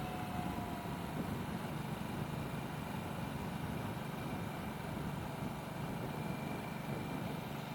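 A Harley-Davidson Nightster motorcycle engine runs steadily and close, a low rumbling drone with a faint rising tone, alongside constant wind rush from riding, with no clear separate throttle blips.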